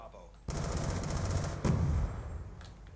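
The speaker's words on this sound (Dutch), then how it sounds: "Ik schiet je gewoon af." Sustained automatic gunfire in Black Ops 2, a dense close burst starting abruptly and rattling for about a second and a half before a heavier volley, with no voices over it.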